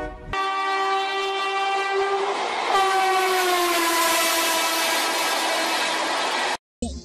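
Train arriving at a station, a loud sustained horn blast with a shifting pitch over rumbling wheels, close and continuous before cutting off abruptly near the end.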